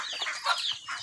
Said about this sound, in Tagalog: ang manok sa taas